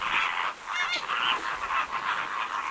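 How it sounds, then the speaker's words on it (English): Flamingos on a beach honk and gabble in a loud, continuous chorus of nasal calls, with overlapping birds close by and no pauses. "These are flamingos."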